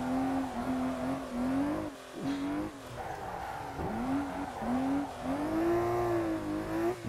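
BMW E30 engine revving hard in third gear on the Transfagarasan mountain road, a loud sustained rasp that rises and falls with throttle, briefly dipping between pulls, heard close from inside the car.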